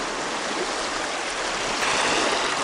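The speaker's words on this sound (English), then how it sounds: "right in the middle of the stream here as it joins Lake Michigan." A stream runs out into Lake Michigan, its flow meeting the lake's waves along an eroding shoreline. The rushing, washing water noise is steady and close, filling the whole moment with no voices.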